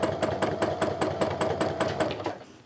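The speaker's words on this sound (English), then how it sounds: "the sewing machine is purring" A sewing machine doing free-motion quilting runs with a steady, rapid mechanical rhythm, each stitch a regular tick, then slows and stops.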